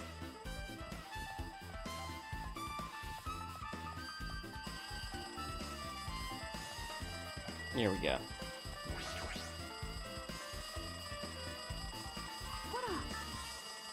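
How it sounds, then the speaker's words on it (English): A telephone rings from the floor above in the video game Danganronpa 2, a steady, busy ringing that runs throughout beneath game music and sound effects while a person talks over it. "Looks like that phone is ringing."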